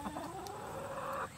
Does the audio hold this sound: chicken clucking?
yes